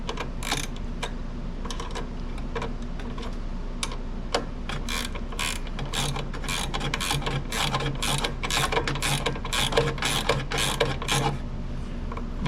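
Rapid ratchet clicks tightening a nut on the idler pulley of a Simplicity Briggs & Stratton snow blower, dense metallic ticking in quick bursts that runs steadily and close up throughout, with no talk.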